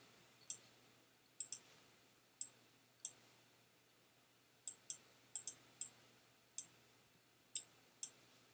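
Sharp computer mouse clicks land one or two at a time at an irregular pace, some as quick doubles, faint and close against a quiet room hum.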